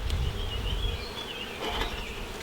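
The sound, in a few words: honey bees buzzing at opened hive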